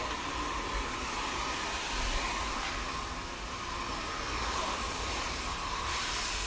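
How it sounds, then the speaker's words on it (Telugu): A hair dryer blow-drying hair in a UK salon gives a steady, loud, continuous airy whoosh that holds evenly throughout without pause. "ఫస్ట్ అయితే బ్లో డ్రై చేసేసింది"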